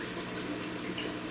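Water sloshing and splashing steadily in an aquarium as an L340 pleco is returned to the tank, a continuous close wash of liquid with no voices.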